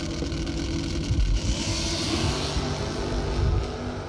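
Drag racing cars, among them a 1987 Corvette, launch at a bracket racing event with a sustained engine roar. Two sharper bursts of revving stand out in the steady, fairly close drone, and no one speaks.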